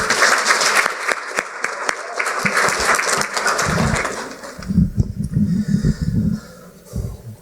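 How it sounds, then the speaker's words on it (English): A room at a Roseville High School student school board meeting breaks into close, loud applause for students, teachers and staff; the clapping thins out after a few seconds into scattered claps and murmuring. "If we could just have another round of applause for our teachers and our staff and our students today."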